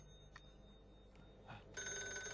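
A telephone rings indoors, starting with a few faint chirps and then a steady sustained ring near the end, with no talk over it.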